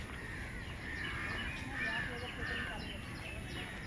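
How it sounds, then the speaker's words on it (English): Outdoors in Mumbai after rain, crows caw and other birds chirp intermittently, faint and somewhat distant, over a steady wash of ambient background noise. "And there are so many birds."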